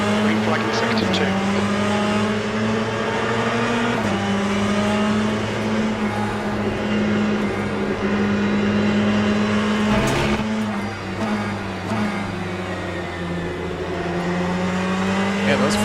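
Ferrari GT race cars roar through a Le Mans Ultimate race, engines droning steadily and loud at close range with shifting pitch, a brief jolt midway, and a voice talking over the engine noise.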